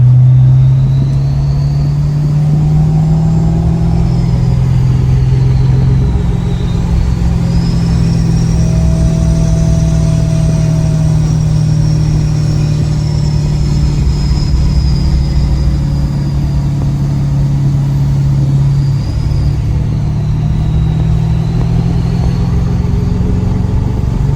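A 2018 Ford F350 diesel with compound turbos and 4.30 gears drones loud and steady while descending a grade in manual mode with exhaust braking, a deep continuous rumble topped by a rising and falling turbo whistle.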